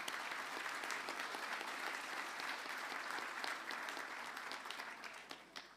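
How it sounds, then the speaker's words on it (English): Sustained audience applause for the judges at the Galway City Mayor's Awards 2023, a dense wash of many hands clapping at moderate distance that holds steady for several seconds before easing slightly near the end, with no talking. "I'd just like to give a round of applause to all the judges that did such great work."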